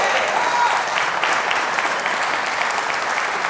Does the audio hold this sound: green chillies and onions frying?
no